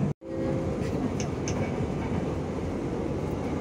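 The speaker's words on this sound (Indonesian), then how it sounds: "Sesaat lagi kereta akan tiba di stasiun Maguwo." KAI commuter train rolling into Maguwo station in Indonesia, a steady loud low rumble of wheels and carriage noise filling the whole stretch after a brief cut at the start, with faint higher squeals.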